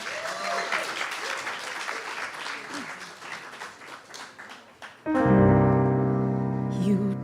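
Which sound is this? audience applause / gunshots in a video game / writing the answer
audience applause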